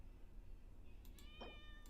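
A cat in the Genshin Impact game gives a single drawn-out meow during an event quest, clear above a steady background music bed.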